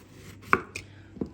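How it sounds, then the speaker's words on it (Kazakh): Knife chopping vegetables for a salad on a cutting board, three crisp separate chops spaced apart, close and fairly quiet with no talk. "Осылай турап көрейік"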